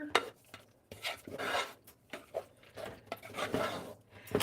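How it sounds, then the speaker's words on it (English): Velveeta mac and cheese being stirred in a pot on low heat, with a series of scraping, rubbing strokes of a spoon against the metal that come in irregular bursts, close and moderately loud, with no talking. "And then we're going to give that a stir."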